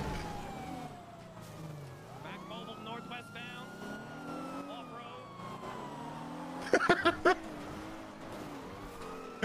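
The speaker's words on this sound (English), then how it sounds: "How do I turn the sirens off?" Police car siren in GTA V, a wailing tone sweeping up and down steadily for most of the stretch, with a voice talking over it and a burst of sharp clatter near the end.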